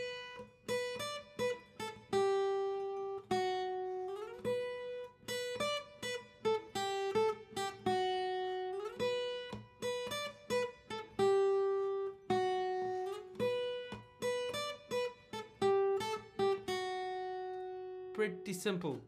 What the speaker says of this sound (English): we're just gonna play it as a riff on the first string.